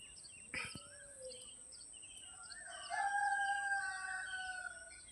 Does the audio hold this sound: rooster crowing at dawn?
yes